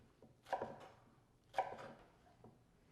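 Knife chopping fresh cilantro finely on a cutting board, two close bursts of quick rapid chops about a second apart, with a few lighter taps between, no talking.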